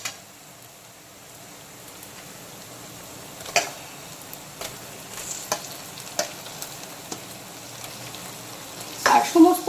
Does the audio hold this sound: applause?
no